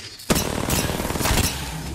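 Rapid gunfire in a competitive video game battle, a burst of dense close shots starting abruptly and continuing loudly for about a second and a half, then a lower sustained rumble.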